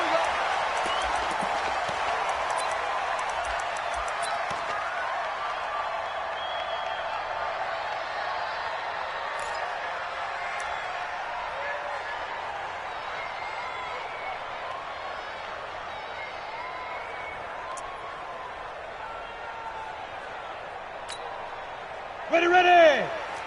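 A stadium crowd at a Tampa Bay Buccaneers versus Carolina Panthers football game keeps up a steady, broad roar of cheering throughout, with a sportscaster talking over it and a brief louder burst near the end.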